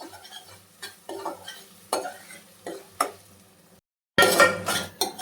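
Onion and tomato pieces sizzle in oil for a drumstick curry, stirred with a few distinct scraping strokes before the frying grows suddenly louder and denser near the end.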